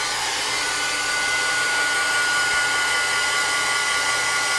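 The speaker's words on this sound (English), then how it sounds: "I'm going to dry this real quick" A hair dryer blows steadily and loudly without pause, drying wet ink on an altered canvas, a constant close whoosh with a faint whine and no speech.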